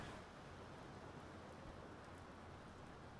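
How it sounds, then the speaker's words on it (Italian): Heavy rain pours steadily in the submarine game UBOAT, a dense, unbroken hiss of downpour that stays loud and constant throughout, with no voices or other sounds over it. "Pioggia terrificante"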